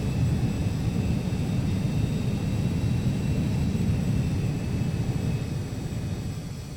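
Carenado Citation CJ2 business jet in the Prepar3D flight simulator, a steady broadband turbine whine and rumble as the throttle is advanced, moderately loud and continuous, fading slightly near the end, with no talking.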